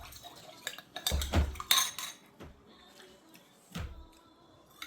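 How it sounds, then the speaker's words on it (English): Beef stir fry with ginger and cornstarch being stirred in a pan, with clattering utensil-on-pan clanks and scrapes in short bursts, loud then quieter, separated by softer kitchen sounds. "I just stir until this pretty much clears out the cornstarch"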